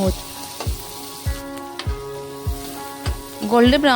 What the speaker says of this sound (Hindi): और जो प्याज मैंने कट किया था ना उसे डाल दी हूँ, एक प्याज को